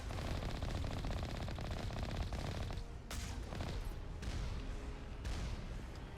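Rapid, continuous automatic turret fire in the video game Mass Effect Legendary Edition, a dense stream of shots with a few heavier bursts, loud and steady throughout, with no talking.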